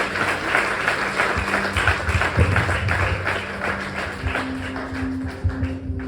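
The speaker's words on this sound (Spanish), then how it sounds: "Denle un aplauso más fuerte al Señor." A church congregation applauding, dense sustained clapping from many hands filling the room, with some voices faintly mixed in.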